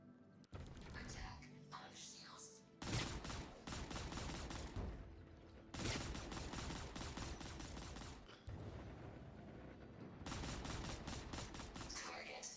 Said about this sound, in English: that is a very, very powerful gun on this